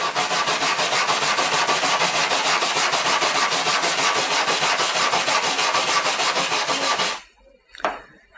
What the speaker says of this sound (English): You want to use the small brush to really get into it in the spot that you're welding on.